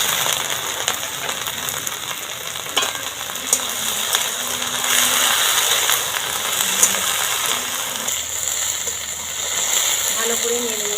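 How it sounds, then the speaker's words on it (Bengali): Okra stir-fried in a pan with green chillies and onions, a steady dense sizzle with scattered clinks and scrapes of stirring, close and continuous throughout. "ভালো করে নেড়ে নিতে হবে ঢ্যাঁড়সটা, ভালো করে একটু ভেজে নেবো"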